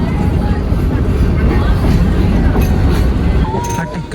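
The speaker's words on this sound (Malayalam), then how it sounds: "ഉദകമണ്ഡലത്തിൽ നിന്ന് നമ്മൾ ടോയ് ട്രെയിൻ എടുത്തു കേട്ടോ." The Ooty–Mettupalayam toy train running, a loud steady rumble of wheels and carriages with rattling clatter close by and a faint squeal near the end.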